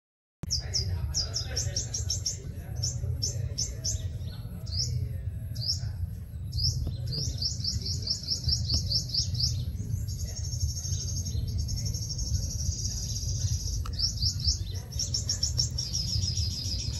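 Sunbird caught in a trap outdoors, giving rapid high chirps and twittering bursts in repeated clusters, over a steady low rumble of background noise with insects faintly buzzing.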